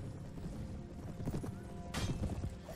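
Horses in a siege battle in Mount & Blade: Warband produce loud, busy clip-clopping hooves amid thick background din, with a sharp burst of noise partway through.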